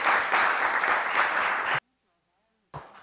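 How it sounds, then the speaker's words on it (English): Dense, steady applause from a large crowd at an Organization of American States session for about two seconds, then silence, followed by a brief burst of renewed clapping at the end. "A round of applause, please."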